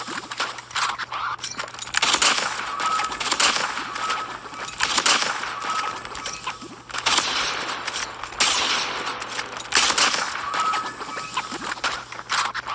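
Sniper rifle gunshots ring out in the mobile shooter game Call of Duty Mobile, several sharp cracks spaced a few seconds apart over a constant busy game-sound bed.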